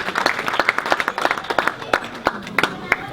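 Wedding guests applaud during the speeches, a lively burst of individual claps from a modest crowd, close and uneven, with some faint murmuring underneath.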